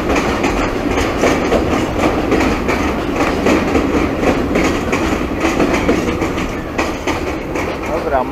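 Train rolling past near a railway bridge in a forest, a steady loud rumble with rhythmic clickety-clack of wheels over rail joints throughout.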